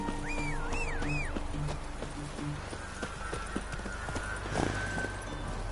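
Riding horse in a video game, hooves clip-clopping in a quick regular rhythm beneath ambient game music, with a faint whinny-like tone early on.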